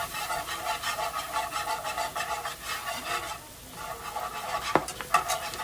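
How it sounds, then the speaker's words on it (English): A whisk working flour into a liver and onion gravy in a pan, rhythmic scraping strokes over a low simmer, a brief pause, then a couple of sharper clinks near the end, no talking. "And just keep whisking till you get that flour down"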